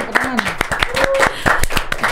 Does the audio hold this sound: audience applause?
yes